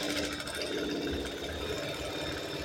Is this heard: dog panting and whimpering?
no